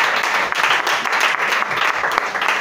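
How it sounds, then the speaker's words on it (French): A congregation at a French-speaking church service breaks into sustained, dense applause that fills the room evenly from start to finish, with a few louder individual claps popping out of the crowd noise. "acclamez le Seigneur Jésus-Christ"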